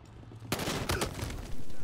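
Loud gunfire from the shooter game Battlefield Hardline during a multiplayer match: a sudden rapid burst of automatic shots erupts after a quiet moment and keeps rattling at close range, with another heavy burst near the end.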